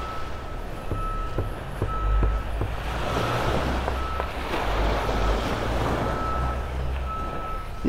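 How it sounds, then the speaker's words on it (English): Reversing-vehicle beeps at a construction site near a beach in North Naples, Florida, repeating at a regular pace over constant wind and surf noise, moderately distant. "You can always hear the sounds of construction here."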